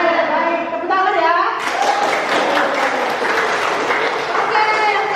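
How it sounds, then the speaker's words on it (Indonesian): Classroom audience breaks into lively applause after a voice finishes speaking, dense clapping continuing steadily and close by, with some chatter mixed in. "Tepuk tangan ya."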